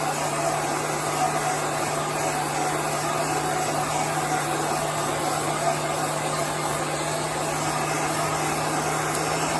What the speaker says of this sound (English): we're going to dry just the edge right there